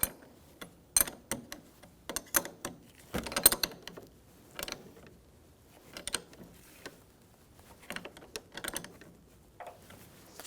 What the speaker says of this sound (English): you're going to have a 1/2 inch or 13mm wrench or socket and snug this up